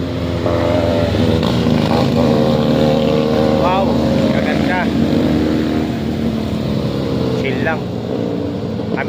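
A steady motorcycle engine rumble runs throughout at a roadside coffee stop on the Marilaque highway, close and loud, with people talking over it.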